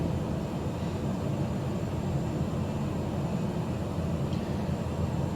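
A light aircraft in flight along Lake Tanganyika in Africa, its steady engine drone and rushing cabin noise constant and loud throughout, with no talking.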